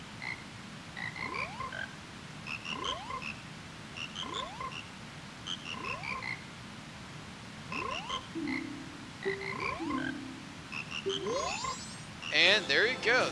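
Frogs croak in Majora's Mask during the Don Gero frog choir side quest, a repeating rhythmic chorus of game croaks in regular bursts, with melodic notes joining and a brighter flourish at the end.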